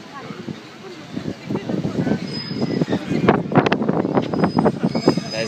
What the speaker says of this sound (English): So we have a train pulling up into Newquay.